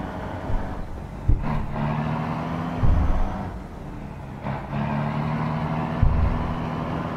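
A heavy truck engine labors in mud in Euro Truck Simulator, droning low and straining with repeated thumps and surges as it pushes through, no speech heard.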